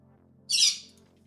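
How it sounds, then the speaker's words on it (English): A bird lets out a single loud, harsh squawk lasting about half a second, standing out alone over a low background hum. "you can hear the bird yelling"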